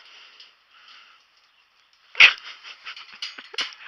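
Dog barks close by in a backyard near rabbit cages, a sudden loud bark followed by several shorter yips and snuffling sounds after a quiet stretch with faint background noise.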